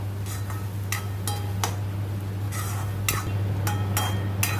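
Tomatoes frying in oil and being stirred for a tomato khuda, with a steady low hum and repeated sharp scraping clicks of a utensil against the pan at an irregular rhythm.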